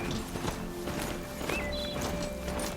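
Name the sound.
horse mount hooves in video game Horizon Zero Dawn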